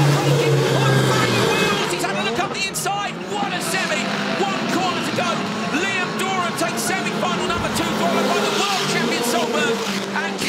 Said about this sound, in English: but Kristoffersson tries to overtake it